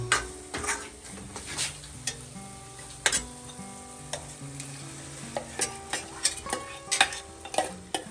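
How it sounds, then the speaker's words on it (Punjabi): Spinach hitting a hot tadka of tempered spices and frying, a close sizzle broken by repeated loud clanks and scrapes of a ladle on the pot, with a faint tonal hum underneath and no talking. "ਹੁਣ ਵਾਰੀ ਆ ਗਈ ਆ ਜੀ ਪਾਲਕ ਤੜਕੇ ਚ ਪਾਉਣ ਦੀ"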